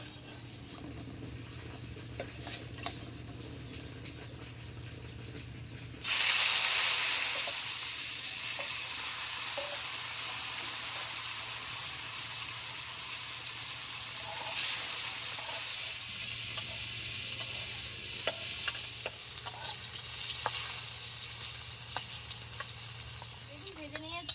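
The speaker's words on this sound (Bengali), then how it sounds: "হলুদ লবণ মেখে রাখা বেগুনগুলো ভেজে নেব" Eggplant pieces coated in turmeric and salt hit hot oil with a sudden loud sizzle, then fry with a steady bubbling hiss that swells again partway through.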